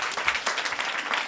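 A classroom of children claps together for a classmate in a short burst of lively, dense applause, close and brief, with no voices over it.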